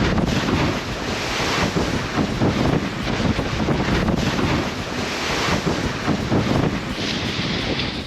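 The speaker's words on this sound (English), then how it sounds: "So for over 12 hours, we headed directly into the wind and waves," Strong wind and rough waves batter a sailboat motoring straight into a head sea on the Red Sea, a continuous loud roar of gusts buffeting the microphone over crashing water.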